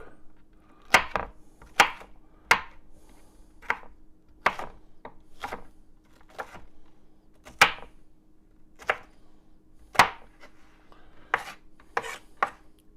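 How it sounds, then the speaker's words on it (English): A knife chops a bell pepper on a cutting board for Cajun salmon gumbo, giving a dozen or so sharp, close taps in an uneven rhythm with short pauses between bursts, alone against a quiet kitchen hum. "And you can chop this as fine or as coarse as you would like."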